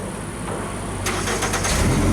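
A JLG lift's engine cranking and catching, a steady rumbling drone that swells and roughens as it starts and settles into a loud idle, close up.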